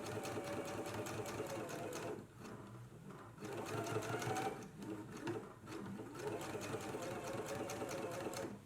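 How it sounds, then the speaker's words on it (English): Close sewing machine top stitching along the curved edge of a dress, a steady rapid needle clatter that slows and dips briefly a few times, with some speech over it. "Let's go ahead and do a top stitch now all the way along the curved edge here."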